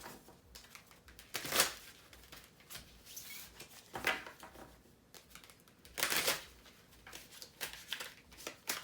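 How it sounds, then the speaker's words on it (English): A deck of tarot cards is shuffled in several soft riffling bursts separated by short pauses, close but quiet, with faint handling noise and no clear talk. "Let's get a reshuffle. One more card within the sequence."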